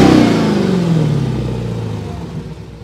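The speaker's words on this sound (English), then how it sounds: "So that's the supercharger on the demon in the exhaust on it." Dodge Demon 170 with a non-stock exhaust and muffler delete, supercharger whine and loud exhaust roar up close, the revving engine slowly falling in pitch as it settles.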